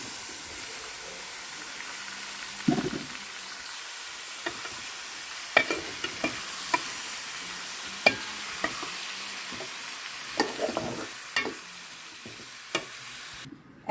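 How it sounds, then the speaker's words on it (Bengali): Chicken and half-boiled vegetables are stir-fried together in a pan for vegetable fried rice, a soft steady sizzle broken by scattered clacks and scrapes of a spatula stirring, fairly quiet and close. "মুরগি মাংসটা প্রায় ভাজা হয়ে গেছে এখন হচ্ছে আমি এই যে হাফ সিদ্ধ করে রাখা সবজিগুলো দিয়ে দিবো"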